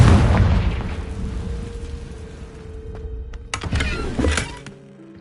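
Confringo spell explosion in a Harry Potter video game, a loud opening boom that fades into a rumbling decay, followed by a sharp sparkling burst and a few crackles.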